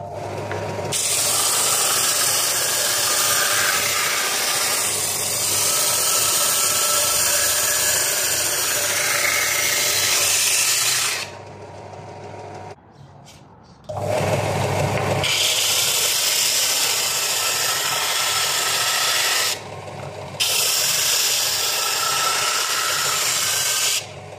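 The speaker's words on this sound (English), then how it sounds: "shape it with a benchtop sander" A benchtop sander grinds steadily against wood, a loud continuous abrasive roar that drops out briefly twice as the piece is lifted and repositioned.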